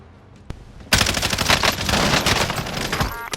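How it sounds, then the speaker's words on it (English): Close, loud automatic gunfire bursts out in Call of Duty Black Ops Cold War Warzone after a single sharp shot, a rapid sustained fusillade of rifle fire and echoing reports filling the rest of the moment. "I heard the people in the top of that building shooting people outside of my building"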